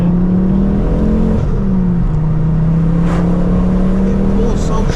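A Ford Focus ST's engine drones loudly from inside the cabin as the car accelerates, its pitch climbing and dipping through the gears, while someone talks over it.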